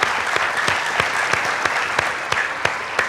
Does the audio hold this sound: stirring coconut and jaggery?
no